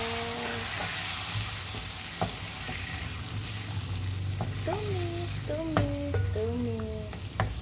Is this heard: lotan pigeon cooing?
no